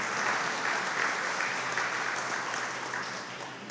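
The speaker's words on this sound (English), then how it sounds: "So give yourself a round of applause for that." Audience applause at the ribbon cutting for the City of Enid's Kaw Lake water supply treatment facility in Oklahoma: a steady, full wash of clapping from a crowd that fades slightly at the end.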